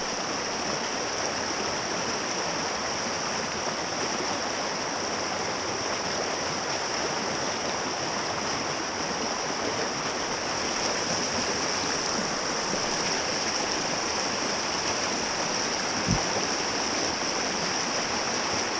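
Fast-moving stream water rushing over a riverbed while fishing, a continuous dense hiss and roar heard close, with a single faint knock near the end and no voices.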